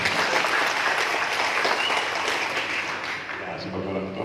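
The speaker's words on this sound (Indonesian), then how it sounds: "Tepuk dulu untuk semua." A crowd claps steadily and continuously, loud and close, with a few voices mixed faintly under the applause.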